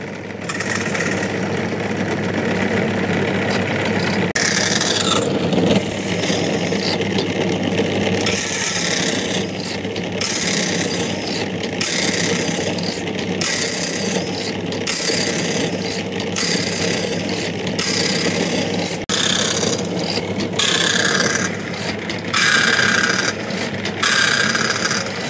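A thin-gauge blade cuts fine teeth into a horn comb, giving steady, rhythmic rasping strokes that pause briefly between runs, close and loud with no talk.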